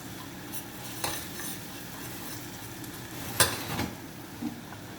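Tomato paste is stirred into a hot pan for a mantı sauce, giving a soft, steady sizzle with occasional scraping clicks of a utensil against the pan, fairly quiet and close.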